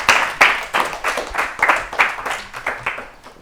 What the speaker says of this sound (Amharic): አጨብጭቡላቸው አጨብጭቡላቸው